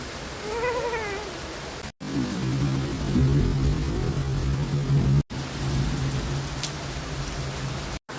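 Rain falling steadily, heard from a balcony as a dense, even hiss of drops on surfaces, with a cat meowing briefly near the start.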